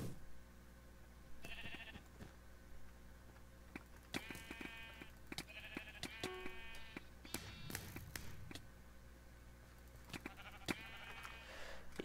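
Sheep bleat in the video game Minecraft on the Mineplex server, several short wavering bleats spread out over a quiet game soundscape with faint taps and clicks, and no talk.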